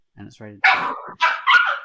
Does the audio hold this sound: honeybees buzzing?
no